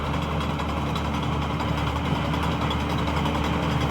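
A New Holland tractor engine runs steadily on a farm, a continuous loud low rumble with no pauses.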